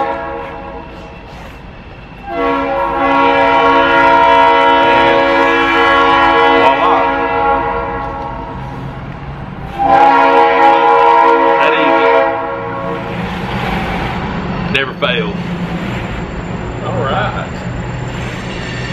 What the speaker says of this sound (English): you'll probably hear the train